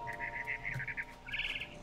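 A bird in the video game What Remains of Edith Finch chirps in a quick series of bright, repeated trills, then a higher twittering burst, over a faint low background hum.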